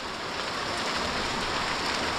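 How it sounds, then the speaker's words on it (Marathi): Heavy monsoon rain falls without pause over a Konkan village house, a thick steady rushing hiss at even volume, nothing else standing out. "पाऊस जसाच्या तसाच आहे जो सकाळपासून पडतो आहे तो पडतो आहे"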